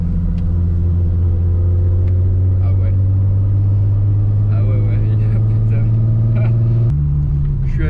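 A Volkswagen Corrado VR6 turbo engine idles and rumbles with its exhaust valves open, a loud deep steady drone from inside the car, with someone talking over it.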